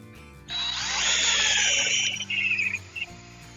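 A cordless drill with an undercharged battery whirs loudly and steadily up close for a couple of seconds, then bogs down and sputters in uneven bursts before stopping.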